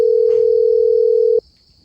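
A telephone ringback tone holds as one continuous, loud steady tone while an unanswered call rings, then cuts off abruptly after about a second and a half, leaving near silence.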